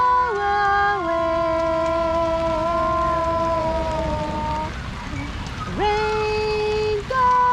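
Rain falling steadily during a storm while magnet fishing outdoors in Australia, a constant broad hiss running beneath loud, sustained, wavering howl-like tones that stop briefly and then return.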